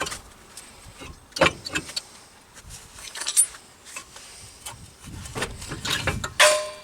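Brake pads being worked loose from the front caliper of a Jaguar X-Type, faint metallic clicks, scrapes and rattles coming in irregular bursts at close range in a quiet garage.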